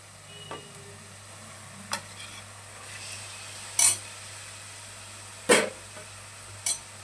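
Mutton stirred and sautéed with tomatoes in a pan, a low quiet sizzle under a handful of sharp scraping strokes and clinks spaced irregularly, close by.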